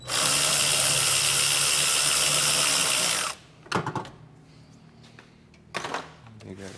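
A power tool with a 5.5 socket whirs loudly for about three seconds, loosening the air cleaner clamp on a 2012–2015 Honda Civic 1.8L engine, followed by a few short clanks of parts being handled.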